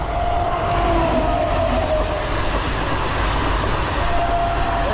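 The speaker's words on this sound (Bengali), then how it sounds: "দেখো ট্রেনটা আসছে, এটা মনে হচ্ছে লোকাল ট্রেন।" A local train passes close by, filling the clip with a loud continuous rumble and rail clatter, with faint tonal squeals riding on top and no voices.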